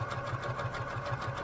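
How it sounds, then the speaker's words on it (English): Sewing machine stitching a 1/4 inch seam through quilt pieces, a quiet, fast, even rhythmic clatter of the needle running close by without speech. "And you're going to sew this together."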